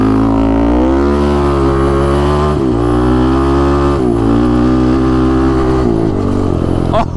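An adaptive ATV built for amputee veterans pulls away from a dead stop, its engine loud and close with a continuous rising drone and shifting pitch steps as it gains speed.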